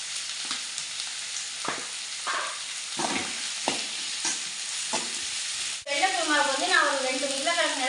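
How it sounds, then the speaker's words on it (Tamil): Sliced onions with salt sauté in a pan under a soft sizzle, broken by repeated stirring scrapes, before a voice starts talking over the cooking. "அந்த வெங்காயத்தை சேர்த்துக்கலாம் கொஞ்சம் உப்பு போட்டு வதக்கலாம்"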